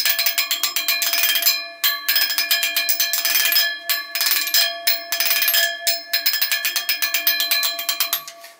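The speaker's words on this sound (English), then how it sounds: "It's a child gate that I keep against my wood-burning stove" A metal child safety gate played as found percussion, struck and scraped so it rings with bright, bell-like metallic tones in quick uneven bursts with brief gaps, close and fairly loud with no talking.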